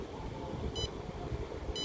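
An IoT parking monitoring system's buzzer sounding short electronic beeps about once per second, two bright tones heard over a steady noisy background.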